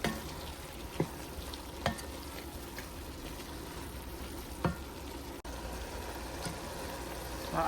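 Ground meat and onions for lasagna frying steadily in a pan, a continuous moderate sizzle broken by a few sharp stirring clicks and scrapes, no voices.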